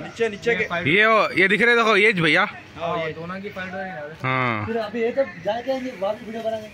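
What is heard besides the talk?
None of the usual background noises is heard.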